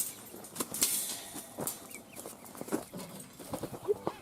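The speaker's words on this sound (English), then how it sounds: "This poor little magpie, he's not sure what to think in there." A magpie calls several times from inside an enclosure or trap, a series of short, harsh chattering squawks spaced irregularly and fairly close, over faint background noise.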